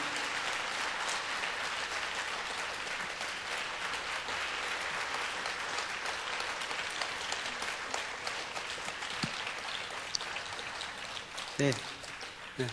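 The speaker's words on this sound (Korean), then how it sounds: "우리 박수로 한번 모시도록 하겠습니다" An audience at a Wednesday church service applauds to welcome the pastor, a dense, continuous patter of many hands clapping that holds steady throughout, with faint other sounds near the end.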